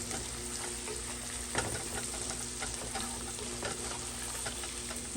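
Garlic frying with shrimp in a pan, a close, steady crackling sizzle with light stirring scrapes throughout and no voices.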